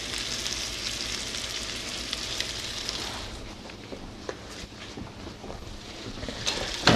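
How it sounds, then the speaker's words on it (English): Collard greens frying with bacon and onions sizzle steadily in a pan as sugar is stirred in, a continuous close hiss with occasional scrapes and clacks of the utensil against the pan. "Work that in there a little."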